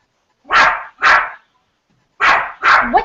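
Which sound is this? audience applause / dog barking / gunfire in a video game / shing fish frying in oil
dog barking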